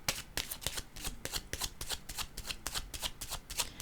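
Tarot cards being shuffled by hand, a quick run of crisp riffling flutters repeating at a steady brisk rhythm, close and fairly loud, with no talking.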